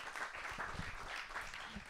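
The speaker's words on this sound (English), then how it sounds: "Let's have a big applause." Meetup audience clapping for a presenter, a continuous patter of many hands at moderate volume with a faint murmur beneath, lasting throughout.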